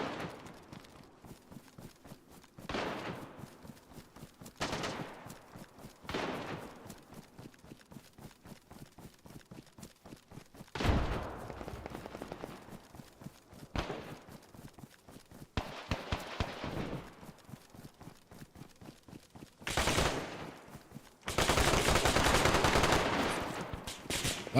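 Automatic weapon gunfire in a video game deathmatch, heard as repeated rapid bursts of shots in short strings and longer sustained volleys, some closer and louder than others, with no talking.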